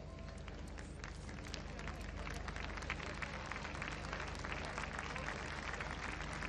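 Sustained crowd applause at the Festival del Huaso de Olmué 2010 awards, a dense, steady wash of clapping over a low rumble of hum or music, fairly distant and continuous throughout.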